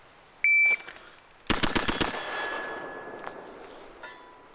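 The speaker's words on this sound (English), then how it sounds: "the recoil impulse on the AR-15 is," A piston-driven PWS AR-15 rifle fires a rapid burst of about six close, loud shots in quick succession, with a short beep and a ringing tone before and after the volley.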